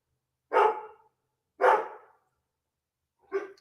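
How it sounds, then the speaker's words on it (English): Pet dogs give three separate barks, the first two close together and the last one shorter, with quiet gaps between them. "I apologize if you hear my dogs barking or whatever in the background"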